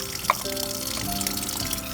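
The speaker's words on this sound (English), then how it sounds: "Now I'm going to take my denture cup and pour out the water." Water poured out of a denture cup into a sink makes a short, soft trickle and splash, with a small bright drip near the start, quiet and close with no talking.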